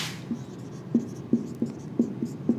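Writing during a stress-and-strain lecture: a faint run of soft, scratchy strokes ticking along at an even pace over a quiet room hiss, with no voice.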